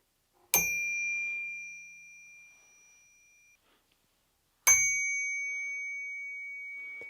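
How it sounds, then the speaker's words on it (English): Designer wrap-around bicycle bell struck twice by its hammer, each a sharp bright ding that rings on with a long clear sustain, fairly quiet, alone with no talk. "It has a nice tone and it sustains quite well, although it's not a particularly loud bell."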